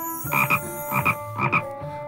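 A frog croaks three times in an even rhythm, each call a short, buzzy double pulse, clear and close with no talking around it.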